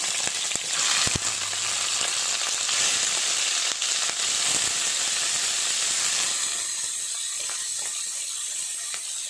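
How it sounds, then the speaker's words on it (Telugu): Bitter gourd pieces tossed with turmeric and salt fry in hot oil, making a loud, dense sizzle broken by several sharp clatters of a spoon against the pan early on, then settling into a steady hiss with no voices. "ఆయిల్ వేడెక్కాక ముందుగా కలిపి పెట్టుకున్న పసుపు ఉప్పు కలిపి పెట్టుకున్న కాకరకాయలను వేయించుకోవాలి"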